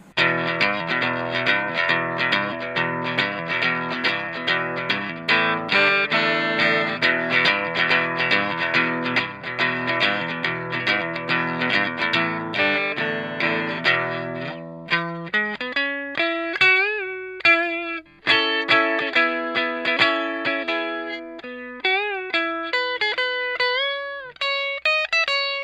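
A distorted electric guitar through an Electro-Harmonix Screaming Bird treble booster pedal, neck pickup coil-split, plays dense, crunchy chords for about fifteen seconds, then shifts to bright sustained single-note bends and slides, loud and up close.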